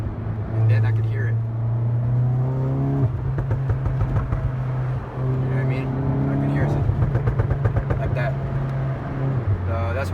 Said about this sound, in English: Sometimes I like to downshift it back to 3rd gear, and then I can hear it.